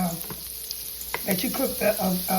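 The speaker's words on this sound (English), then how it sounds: "I'll be searing my vegetables with this butter." Onions and garlic sear in butter with a little oil in a skillet already used for meatballs, giving a close, steady sizzle with small crackles and the scrape of stirring.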